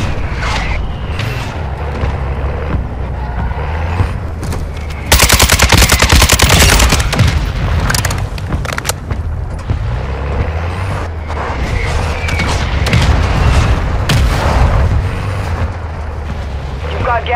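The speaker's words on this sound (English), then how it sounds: "requested fire mission. Target marked. Copy. Mortar strike inbound now." Mortar strike explosions in the Call of Duty Warzone 2 video game land as loud booming bursts amid rattling gunfire, with game voice lines speaking over the action.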